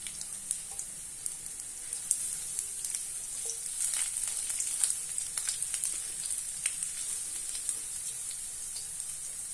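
Garlic fries in oil with bay leaves for a fish soup, a steady bright sizzle with scattered crackling pops and light spattering, close and unbroken throughout.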